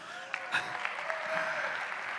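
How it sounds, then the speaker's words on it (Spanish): Audience applause for a man's wife, who is attending for the first time, at a Kubernetes tech talk. Moderate, steady clapping lasts about two seconds with no voices over it. "denle un aplauso a mi esposa"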